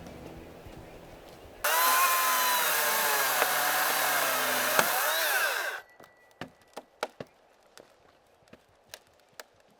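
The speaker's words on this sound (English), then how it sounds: "the right thing to do is to remove the tree, and we have a chainsaw, so that's what we're going to do" A battery chainsaw whines loudly and steadily for about four seconds while cutting a fallen green tree, then stops, followed by scattered sharp clicks and knocks.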